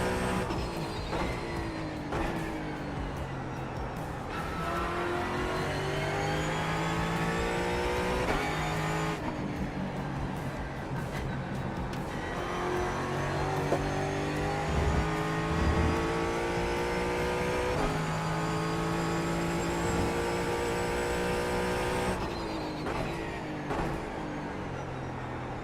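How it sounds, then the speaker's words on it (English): A GT4 Mustang race car engine roars steadily in a sim racing game at Okayama, with revving harmonics rising and falling through gear changes and loud, continuous throughout with no talk. "Yeah, this car sounds great."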